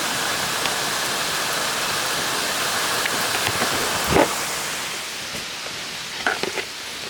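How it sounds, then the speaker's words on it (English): Heavy rain pouring down, a dense steady roar of water with occasional brief knocks and splashes standing out near the end. "As I'm speaking to you guys, it starts pouring."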